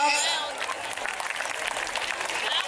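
A group clapping during an exercise class, a voice calling out at the start before a patter of claps from many hands spreads loosely through the rest, with talk underneath.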